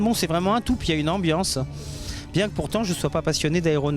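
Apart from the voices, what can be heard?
No everyday noise stands out behind the speech.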